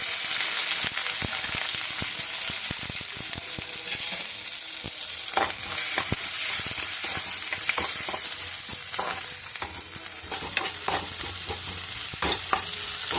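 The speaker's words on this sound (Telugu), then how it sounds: "ఉల్లిపాయల తర్వాత పచ్చిమిర్చి వేస్తున్నాను" Onions and green chillies fry in a pan for wheat rava upma, a steady close sizzle with frequent stirring scrapes and clicks throughout.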